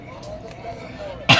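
A single sharp cough bursts out near the end, close and loud, after a quieter stretch of room sound.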